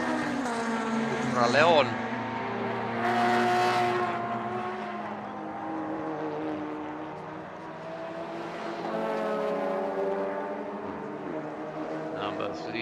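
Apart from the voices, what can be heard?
touring race cars racing on circuit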